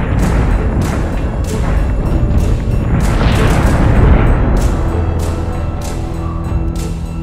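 Heavy booming fire from ship weapons in the space strategy game Battlestar Galactica Deadlock, a dense rumbling barrage with sharp repeated cracks on top, steady and loud throughout.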